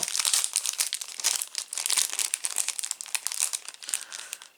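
Plastic packaging crinkling and crumpling continuously as model train rails are unwrapped, close, busy and loud, no voices.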